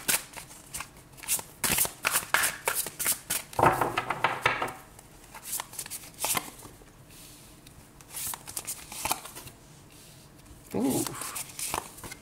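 Tarot cards are shuffled near the microphone in a series of crisp riffling bursts and soft slaps, irregular and fairly close, with a voice speaking quietly at times.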